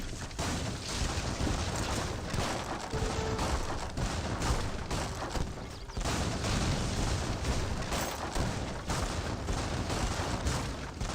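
Battleship cannon fire during a naval battle in the strategy game Age of Empires 3, a dense continuous barrage of overlapping booms and gunfire bursts at a steady, fairly faint level without pause.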